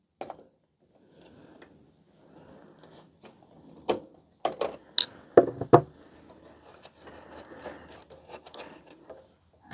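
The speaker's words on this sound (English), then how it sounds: "We should be able to get that with a pair of pliers." Pliers grip and twist a nut off the volume control shaft of a Digitech AV amplifier, giving faint scraping followed by several sharp metallic clicks and clanks, with no talking.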